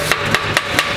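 Four to five sharp hammer blows land at a steady rhythm, close and loud, while an Ohlins shock absorber is being stripped down for a Ducati 916 motorcycle.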